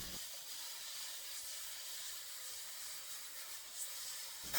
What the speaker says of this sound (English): I'm going to reinforce it by running a weld across the weak point.